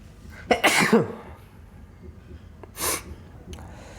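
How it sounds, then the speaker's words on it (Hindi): A single loud sneeze from a man with a sudden nasal burst and breathy release, followed by a second fainter sneeze or snort a couple of seconds later, with no talking. "ये छींक है, कभी भी आ सकती है"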